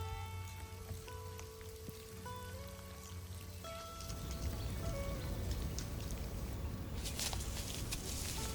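Drizzling rain in Norwegian nature, a soft patter that starts partway through, after a stretch of steady tones, and then continues as a dense, even shower nearby.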